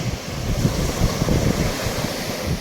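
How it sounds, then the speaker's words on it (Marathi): Strong ocean surf at Baga Beach in Goa rolls in as a continuous rushing wash of waves, heavy with wind buffeting the microphone, close and loud with no voices. "तुम्हाला लाटांमध्ये असं सामावून घेणार, आत वाढणार पाणी."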